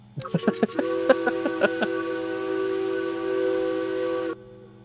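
A few short chuffing bursts, then a long, steady multi-tone train whistle in the video game Derail Valley blows for several seconds before cutting off abruptly, with no talking.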